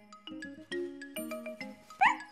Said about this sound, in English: Oh, Snuffy, said Miffy, you are such a clever little dog